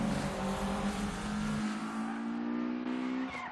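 Race cars arriving in an Initial D anime film, led by a Toyota AE86, engines roaring loudly with sustained high revving tones and a shifting pitch as the cars approach, no voices heard.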